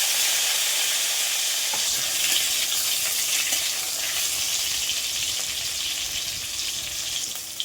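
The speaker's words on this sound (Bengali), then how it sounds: "হালকা করে নিয়ে ফেলে ভেজে নেবো হালকা হালকা লাল লাল করে" Slices of pointed gourd (potol) fry in hot oil, a loud, steady close sizzle with crackling spatter throughout, no voices.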